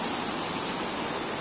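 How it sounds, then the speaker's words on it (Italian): Heavy waterfall in the Friuli Dolomites mountains after a night of downpour, a dense continuous roar of rushing water, loud and steady with no pauses. "ovviamente ieri qui la cascata non c'era"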